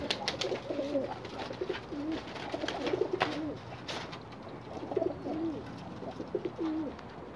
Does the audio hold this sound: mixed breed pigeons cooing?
yes